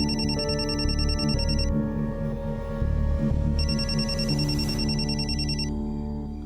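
A telephone rings in two long bursts of electronic trilling, separated by a pause, loud and close, over a steady low hum.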